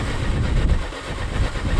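A low, rumbling engine of a 57-year-old tractor runs steadily at close range while warming up, a rough mechanical drone with a faint rattle and no talking.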